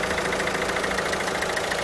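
A Peugeot Partner Tepee 1.6 HDI diesel engine idles quietly at a steady pace, with a fine, even ticking clatter close by that continues without any voices.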